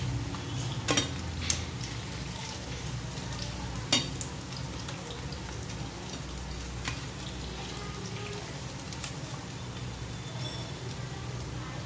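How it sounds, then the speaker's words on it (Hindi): Makhana frying in hot oil, a steady, low, even sizzle running throughout, broken by a few faint clinks of a utensil against the pan and no voices. "इसी तरह से बचे हुए मैं सबको एक एक करके तल लूँगी, धीरे धीरे डाल के।"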